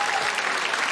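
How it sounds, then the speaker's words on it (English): An audience clapping at a comedy show, a loud, even wash of applause that holds steady for a moment with no voices on top. "It's weird when people clap that."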